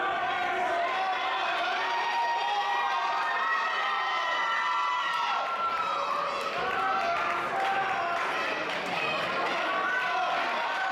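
Wrestling event crowd cheering and shouting steadily throughout, a dense roar of many voices with excited calls rising over it, under talk from nearby commentators.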